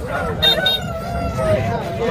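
A rooster crows at a weekly poultry market in Kunnathur, a drawn-out call rising over a busy market din with other fowl and people talking nearby.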